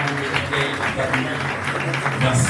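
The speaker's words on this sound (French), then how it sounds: "un applaudissement." An audience claps at the launch event of a political movement, the Mouvement pour la Démocratie et la Citoyenneté, a continuous wash of hand claps running under murmuring voices and talk throughout.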